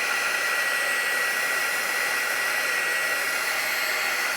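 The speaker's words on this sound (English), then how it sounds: "So I'm gonna dry this real quick with my little heated gun." A small heat gun blows a steady, loud, even rushing whoosh over a watercolor painting, continuous without a break.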